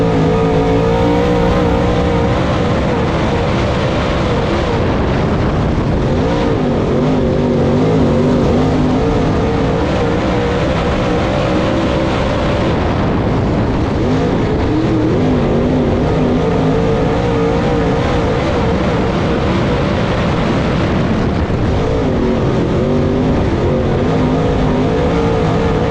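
Race cars roar around the Southern Raceway oval in a dense, continuous wall of engine noise, loud and close, with the pitch rising and falling as the pack accelerates through the laps.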